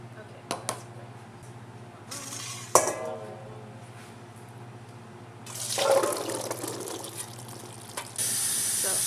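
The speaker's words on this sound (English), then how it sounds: "Once I rinsed the chickpeas," Chickpeas rinsed under a running kitchen tap, water pouring steadily into a sink, with clinks of dishes and utensils earlier and a voice speaking nearby.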